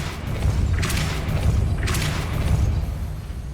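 Depulso spell cast in the video game Hogwarts Legacy, heard as two whooshing bursts about a second apart over a low rumbling game backdrop, fairly loud and with no talking.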